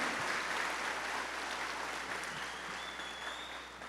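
A church congregation applauding during a sermon, a steady, dense wash of clapping from many hands that fills the room and tapers slightly toward the end.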